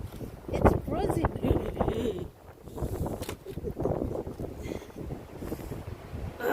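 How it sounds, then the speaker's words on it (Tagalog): Strong gusting wind batters the microphone during a blizzard, roaring and buffeting unevenly up close while a person speaks in bursts. "it's very windy guys."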